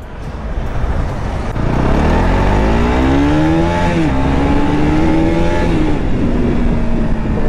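A motorbike engine runs loud and close, holding a steady drone as the revs climb and dip.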